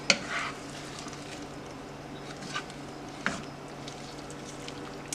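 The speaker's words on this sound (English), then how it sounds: "we're going to add my favorite, which is kale. Stir that into the mix" Kale is stirred into a lentil curry in a pot, with a faint bubbling sizzle and a few soft spoon scrapes and clacks against the pot at irregular intervals.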